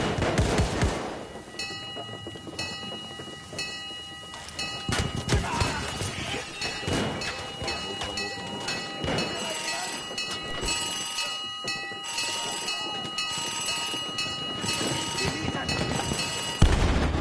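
Grenade explosions and gunfire in a Battlefield 1 multiplayer match, repeated heavy blasts and crackling shots spread across the scene, loud and dense, with a player talking over the combat.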